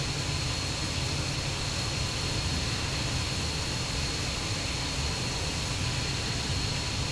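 A-164 fixed-wing jet aircraft in the video game Arma 3, a steady, dense engine roar that holds unchanged throughout without any talk.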